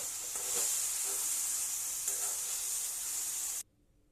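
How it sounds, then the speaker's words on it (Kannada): Spices fry in oil in a pan for a red chutney, giving a steady, bright sizzle with a few soft stirring scrapes, loud and close for several seconds before cutting off abruptly. "ಸ್ವಲ್ಪ ಎಣ್ಣೆ ಹಾಕ್ಕೊಂಡು ಹಾಗೆ ಹುರಿರಿ"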